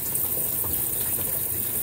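A Consul 16 kg washing machine fills with water on its cleaning-cloth cycle at the lowest water level, a steady, even rush of water close by with no talking.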